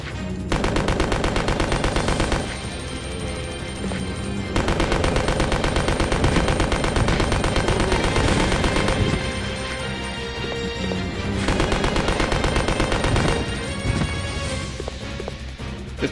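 Rapid, sustained gunfire from weapons in Resident Evil Code Veronica X, dense bursts running nearly throughout over a busy game soundtrack, with brief lulls between volleys.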